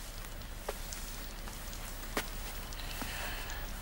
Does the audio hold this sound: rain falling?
yes